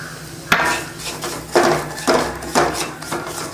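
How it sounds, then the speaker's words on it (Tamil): Semolina roasting in ghee in a pan, heard as a few sharp metallic scrapes and knocks of a spoon against the pan at a steady, unhurried pace, close and fairly loud with no talking. "அதே நெய்ல ரவையை வறுத்துக்கலாம்."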